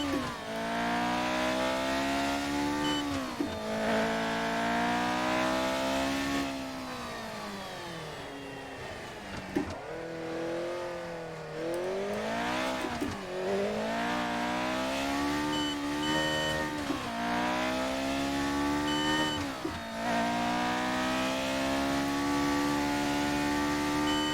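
A 1970s Formula 1 car engine, Lotus 72D, Ferrari 312 or McLaren M23, in the game F1 2019, screaming loudly and continuously with repeated rising revs and gear-change dips, close and alone.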